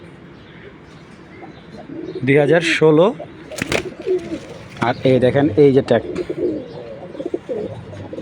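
Imported pigeons coo in short bursts close by while someone talks over them, with soft background noise throughout.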